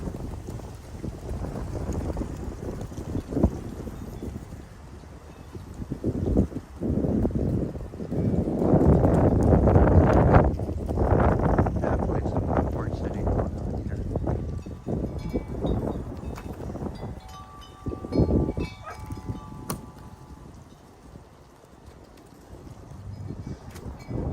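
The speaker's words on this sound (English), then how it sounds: "That is some good wind." Strong gusty wind blows along a town street, roaring and buffeting loudly in long waves that swell, ease off and return, with no voices.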